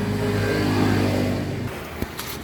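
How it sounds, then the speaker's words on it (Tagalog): A RUSI Swish scooter engine running noisily at close range with internal engine noise, a steady rough hum that drops off partway through, followed by a few clicks and knocks. "Kaya maingay sa loob ng makina."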